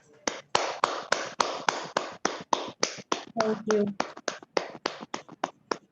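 Audience applause after a group breath-science meditation session, a fairly sparse round of sharp individual hand claps with an uneven rhythm, close and clear, with a brief spoken thanks partway through.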